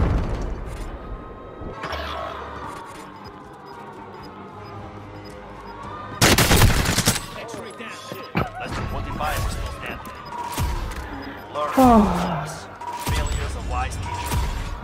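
A light machine gun fires in Call of Duty Warzone on Rebirth Island, heard as loud, sharp bursts of gunfire and booming impacts breaking up a stretch of quieter game sound, with people talking in between.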